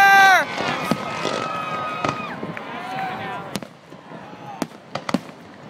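Canada Day fireworks explode over a bridge in Calgary, several loud sharp bangs and crackles over rising whistles, with an excited crowd and voices reacting in the background.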